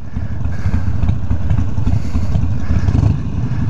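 A bobber motorcycle rumbles past close by, its engine a loud, rough, continuous growl with clattering texture that holds steady for a few seconds.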